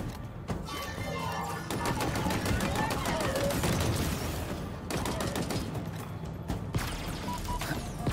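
Sustained gunfire in Halo Infinite, a dense rattling stream of rapid shots layered over game noise, loud and continuous with brief breaks; a voice talks underneath.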